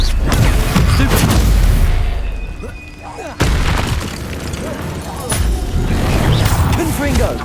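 Spell blasts and booms from combat in the video game Hogwarts Legacy, including a Stupefy stun spell, loud and continuous with a sharp impact near the middle, while a player speaks throughout.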